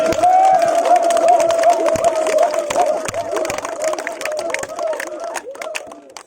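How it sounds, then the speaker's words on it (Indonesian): A crowd applauds and cheers steadily, with a sustained tonal hum running underneath and murmuring voices as the clapping gradually thins out. "Tepuk tangan untuk Pak Dodi."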